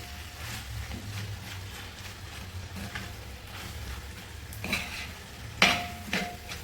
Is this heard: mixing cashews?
yes